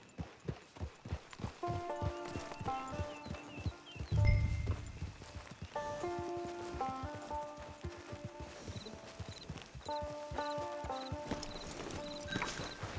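Horse hooves clip-clop steadily in Red Dead Online, near and repeated, with a neigh or whinny partway through and a brief low rumble, over light game music.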